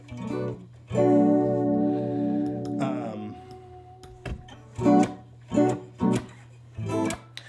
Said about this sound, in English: I like to put like a really fat short room slap on it